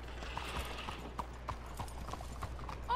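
Hooves of a very large horse clip-clop at a walking pace in Red Dead Redemption 2, a steady rhythmic series of soft thuds, fairly quiet, with a faint whinny-like sound over a low ambient hum.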